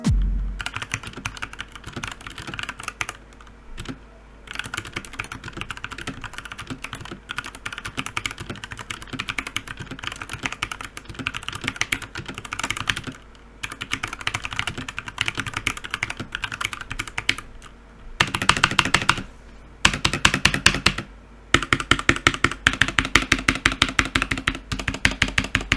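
Fast typing on a Redragon K530 Draconic 60% budget mechanical keyboard, a dense run of crisp key clicks with brief pauses, close and alone over a faint low hum.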